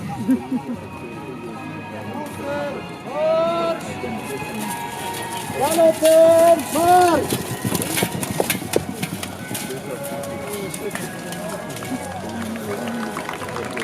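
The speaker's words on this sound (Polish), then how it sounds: "Teraz specjalnie dla Państwa książęca drużyna wykona krótką szarżę rycerską." Horses gallop in a short knights' cavalry charge by a ducal retinue at an outdoor military museum opening picnic. Drumming hoofbeats rise and pass with crowd noise and voices throughout.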